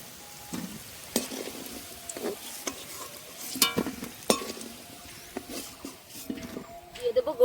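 Potatoes fry in a pan and get stirred, with soft sizzling broken by irregular scraping and clattering strokes of a spatula, close and fairly quiet.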